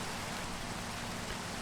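Steady, even rain falling in the Minecraft video game world, a dense continuous hiss with no breaks, moderately loud and alone with no voices.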